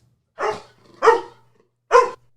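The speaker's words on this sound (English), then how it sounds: "that was our other dog, Buck, who decided he wanted to be on the sh" A dog barks three times close by, sharp separate woofs spaced roughly half a second apart, with no talking.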